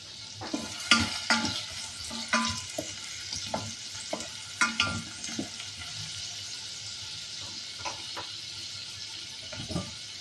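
Chopped onion and garlic frying in oil in a pan on a stovetop, with a soft sizzle broken by repeated sharp stirring and scraping clatters.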